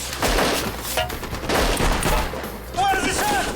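Heavy gunfire and an RPG rocket during an airport hostage rescue assault: dense, loud, continuous bursts of shots and blasts filling the whole clip, with faint shouting underneath.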